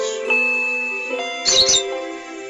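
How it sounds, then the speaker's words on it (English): A two-note ding-dong doorbell chime in the Higurashi visual novel game rings out clearly over sustained background music, with a brief brighter flourish about midway. "Just then we heard the chime go ding-dong"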